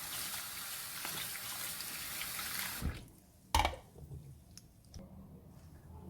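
Water drains steadily from homemade cottage cheese (chhena) for rasgulla, a continuous close splashing flow into a sink that stops abruptly, followed by a wet squish and faint trickles.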